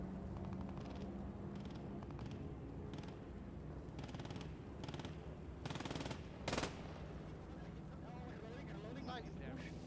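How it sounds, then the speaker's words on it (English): Heavy machine gun fire in a realism combat video game, heard as bursts of rapid shots over a droning engine rumble, with voices talking throughout. "We're going to hear heavy MG fire."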